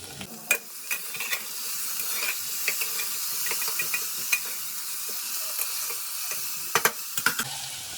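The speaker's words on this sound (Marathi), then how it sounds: "आता आपण एक कट केलेला टोमॅटो टाकूयात।" Chopped tomato goes into a hot pan for Marathi-style moong dal khichdi, with steady close sizzling and frying hiss broken by scattered stirring knocks and taps.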